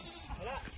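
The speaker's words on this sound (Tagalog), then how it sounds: "Oh, kambing." Brief goat bleat along a trail in Isabela, a short wavering cry over the low noise of a group bike ride.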